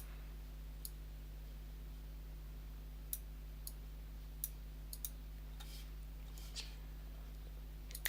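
Faint, sparse computer mouse clicks, roughly eight scattered single taps, sound over a low steady hum during photo editing in On1 Photo RAW 2019.5.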